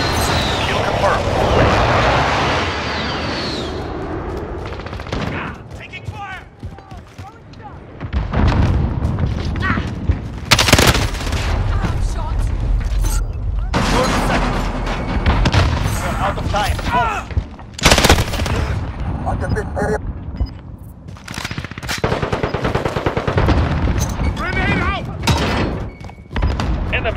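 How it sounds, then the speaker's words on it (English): Call of Duty: Modern Warfare multiplayer battle with loud gunfire bursts, heavy explosion booms and mechanical weapon handling throughout, dense and continuous, with game announcer voice callouts over the din. "Allied precision airstrike incoming"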